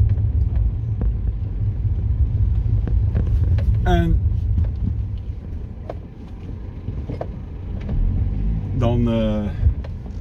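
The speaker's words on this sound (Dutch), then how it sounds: "een ritje in de bus" Steady low engine rumble from inside a bus, with wind buffeting the microphone and a passing car or two; a voice speaks briefly over the drone.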